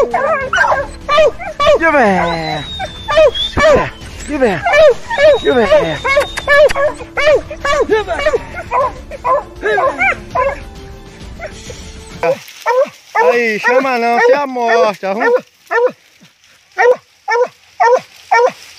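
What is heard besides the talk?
American foxhound hunting dog barking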